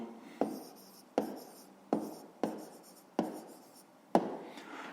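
Pen writing on paper while working a math exercise, six separate strokes or short bursts spaced about a second apart, each starting with a sharp scratch and trailing off, close and clear with no talk.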